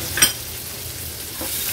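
Chopped onion and green chili sizzle in a hot cumin-and-mustard-seed tempering for an Agri-Koli style veg thali. A steady frying hiss runs throughout, with a sharp clink of a stirring spoon near the start and a softer scrape later.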